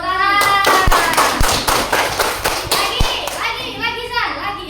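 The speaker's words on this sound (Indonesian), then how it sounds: "Oke, tepuk tangan." Children in a classroom clap their hands in a quick rhythmic pattern of sharp claps, loud and close, with kids' voices chattering over and between the claps.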